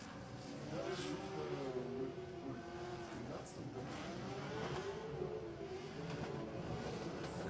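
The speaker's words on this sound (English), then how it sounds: "As we can hear, tires being warmed up in the background there" Drift cars warming their tires at a drift championship battle in Oman, engines revving and wavering continuously in the background under steady crowd and commentary noise, with people talking throughout.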